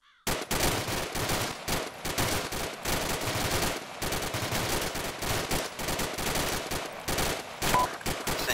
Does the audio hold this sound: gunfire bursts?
yes